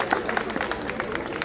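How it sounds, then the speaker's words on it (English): Faint, brief applause from a crowd at an outdoor street co-naming ceremony, with quick scattered claps sounding distant and thin. "Round of applause."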